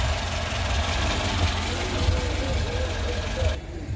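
A Lada Zhiguli car engine idles at a used-car market, a steady low rumble with a rough knocking pulse running beneath a busy outdoor din and nearby voices, continuing evenly before dropping away near the end.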